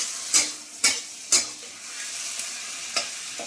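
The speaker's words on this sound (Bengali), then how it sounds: "চিংড়ি মাছগুলো ভেজে নেবো লাল লাল করে" Shrimp frying in a pan, a soft steady sizzle punctuated by a few sharp scraping clicks of stirring, close and fairly quiet with no talking.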